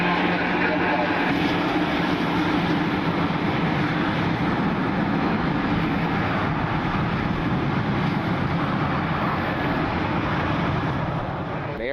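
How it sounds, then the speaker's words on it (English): A Southwest Boeing 737-800 lands in fog and rain at Cleveland Hopkins, a continuous heavy jet roar blended with wind and rain noise that holds steady for the whole stretch. "Here's our Southwest 737. Landing in the fog here today in Cleveland."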